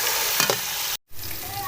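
Tomatoes for chana pulao frying in a pan make a loud, close, continuous sizzle with stirring, broken by a brief silent gap midway.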